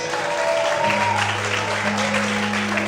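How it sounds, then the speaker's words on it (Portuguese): A church congregation applauds during an evening service, with dense, continuous clapping under sustained music tones. "Quantos podem aplaudir e glorificar o Senhor nessa noite?"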